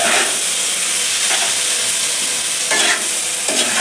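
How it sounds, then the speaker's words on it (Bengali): Fried prawns stirred into a sizzling spice paste for a young jackfruit and prawn curry; steady close frying hiss with repeated scraping stir strokes, no voices. "চিংড়ি মাছগুলো দিয়ে মশলাটাকে ভালো করে কষিয়ে দেবো।"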